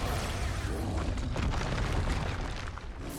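Repeated Expulso spell explosions in Hogwarts Legacy, a dense, continuous rumbling blast that stays loud and close for the whole span with no pauses.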